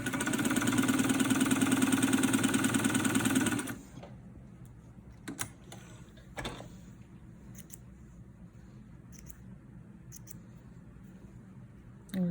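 1947 Singer 66 sewing machine stitching, a fast steady mechanical whir and clatter up close for a few seconds, then stopping, followed by quiet handling clicks and small taps.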